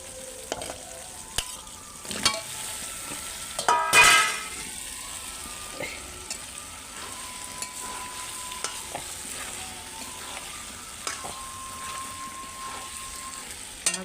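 Potatoes stirred and frying in a spice masala of sour yogurt, cashews, almonds, melon seeds and poppy seeds, a low steady sizzle with scattered scrapes and one louder splash-like burst early on.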